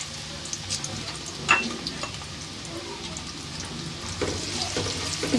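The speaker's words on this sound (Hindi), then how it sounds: "जो दाल चना हमने भिगो के रखी है वो अभी हम इसको इसके अंदर फ्राई करेंगे" Soaked chana dal frying in hot oil for homemade nimko, a soft steady sizzle with a few utensil clinks and stirring scrapes, no talk.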